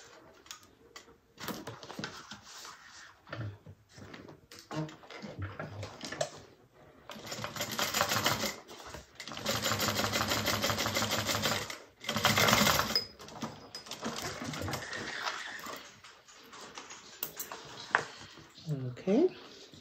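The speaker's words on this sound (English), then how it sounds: "Bring it back, top stitch through the base." Sewing machine top stitching through the base of a fabric bag, running in bursts of rapid mechanical stitching with pauses between, close and clear.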